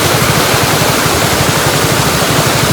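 A full river in spate rushes loudly and continuously, a dense, steady roar of flowing water close by with no pauses and no voices.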